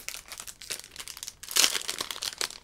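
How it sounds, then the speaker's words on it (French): Crinkling of a thin plastic Pokémon card sleeve bearing Charizard, handled close up in a quick series of rustles with a louder crackling burst midway, no talking. "Petite pochette Dracofeu"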